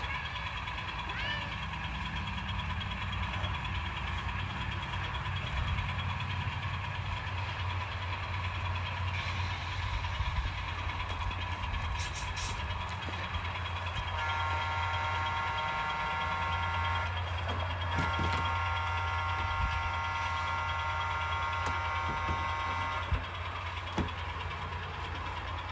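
A switching train at an Ohio firebrick plant, moving cars and coupling onto a caboose: a steady diesel locomotive idle rumbles throughout, with metallic clanks and brief knocks of car movement and coupling.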